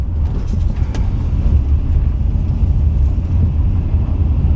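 A 2000 Dodge Intrepid ES cruises down a road, its steady low engine and tire rumble loud and continuous from inside the car, with road noise holding an even level throughout.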